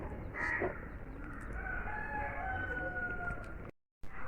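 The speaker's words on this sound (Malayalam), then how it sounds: "കുറച്ച് കോഴികളൊക്കെ നമ്മൾ എടുത്തേക്ക് എത്തിയിട്ടുണ്ട് കേട്ടോ" Chickens clucking and a rooster crowing among fowl being fed black soldier fly larvae reared on spoiled rice; steady outdoor farmyard noise runs throughout, with a brief crow near the start and a short dropout near the end.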